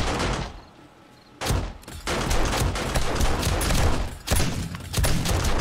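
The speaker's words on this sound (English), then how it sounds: "SMG turrets going downtown over there" SMG turrets firing during a horde night in 7 Days To Die, rapid bursts of automatic gunfire after a short quiet start, sustained and loud with brief gaps between volleys.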